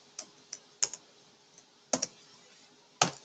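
Code goes in on a computer keyboard as a handful of sparse, crisp key clicks, some in quick pairs, with quiet gaps between them.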